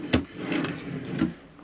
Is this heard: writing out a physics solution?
no